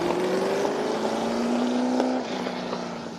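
An F5000 racing car engine, Seb's Coppola, drones loud and steady at a motor racing festival, its pitch rising gently and then settling as it passes.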